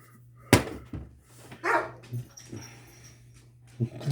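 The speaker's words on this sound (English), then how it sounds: "Dogs are messing with a cat." Dogs bark and yip in short, uneven bursts while harassing a cat, fairly close, with a brief whimpering whine among the barks and a low steady hum underneath.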